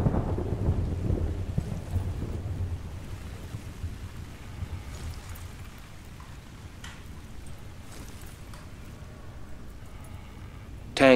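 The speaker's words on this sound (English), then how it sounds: "Wait for the thunder." Thunder in the video game Battlefield Bad Company 2 opens with a heavy rolling rumble that slowly fades into a low, hissing, rain-like wash lasting about ten seconds, with a sharp sound at the very end.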